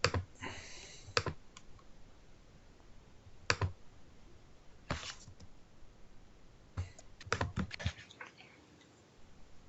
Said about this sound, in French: Et là, j'ai juste à cliquer.